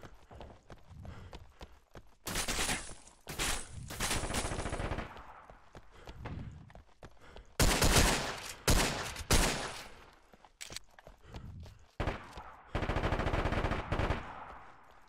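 Bursts of automatic gunfire in a military video game operation, some close and loud, others sharper cracks, broken by quieter gaps of radio chatter and movement.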